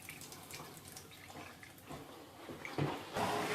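A bathroom faucet runs with weak water pressure after installation, giving a steady, fairly quiet hiss of flowing water that grows a little louder toward the end, with no talk.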